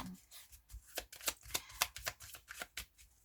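Playing cards are shuffled in a quick run of crisp riffling flicks and slaps, close and fairly quiet, with no talking over them.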